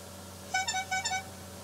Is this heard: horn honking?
yes